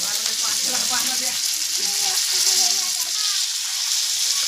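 Tilapia pieces crisping in a pan of hot oil give a continuous bright, close sizzle with a bubbling texture, and a voice murmurs faintly underneath.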